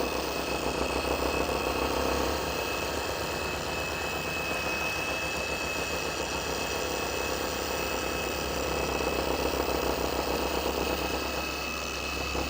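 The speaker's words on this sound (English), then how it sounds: "Turn the speed all the way down of the polisher to the first speed setting." Car paint polisher turning at its lowest speed setting, giving a steady close-up mechanical whir with a fine high whine and an even, unbroken drone throughout.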